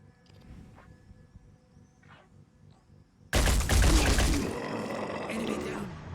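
Gunfire in the Phoenix Point video game breaks out suddenly after a quiet stretch with faint voices, a loud dense burst of shots that keeps rattling to the end.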